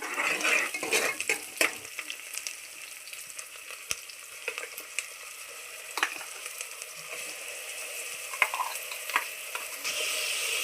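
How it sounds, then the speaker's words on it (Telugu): Onion, green chillies and curry leaves fry in a pan for a black-eyed pea curry, giving a steady hiss and sizzle with bursts of stirring and clinks of a utensil against the pan, loudest in the first two seconds and with no talk. "వేగుతుందండి ఉల్లిపాయ పచ్చిమిరపకాయలు కరివేపాకు"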